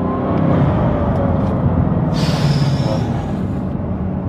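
A Bugatti Divo supercar driving on the road, a loud steady low engine drone and rumble heard from inside the cabin, with a brief higher whine partway through.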